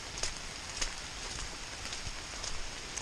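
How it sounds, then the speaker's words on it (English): Heavy, steady rain falls on the Appalachian Trail, a faint, constant hiss of drops with a few sharper patters on nearby surfaces, and no voices. "Oh, just non-stop rain."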